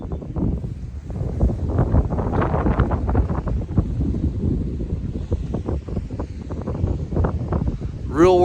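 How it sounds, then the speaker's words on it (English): Strong wind buffets an outdoor microphone during an airgun test, a continuous low rumbling gust throughout, heavy and close, with someone talking over it. "Again, it's pretty windy."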